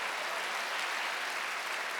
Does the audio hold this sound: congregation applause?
yes